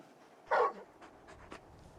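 Torgal, the large dog companion in Final Fantasy XVI, gives one short, sharp huff of panting, followed by a few soft, faint breaths in a quiet scene.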